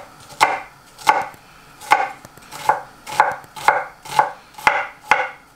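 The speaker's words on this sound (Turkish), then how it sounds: "Şimdi hemen sarımsaklarımı da yine küçük küçük doğruyorum" Knife chopping garlic and onions on a cutting board in nine steady, crisp strokes about half a second apart, close and clear, no voices.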